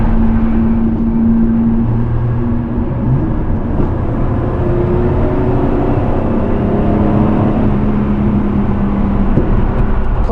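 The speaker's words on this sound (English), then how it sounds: "this V12 has no problem pulling it along" A 1971 Jaguar E-Type Series III V12 2+2 with the original 4-speed gearbox cruises at speed, its engine a loud, steady drone mixed with road and wind roar, the pitch rising slightly as it pulls.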